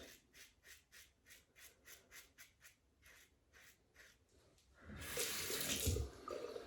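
A Parker adjustable safety razor shaves against the hair growth in a steady series of short, light strokes, faint and close, followed by a louder burst of running water.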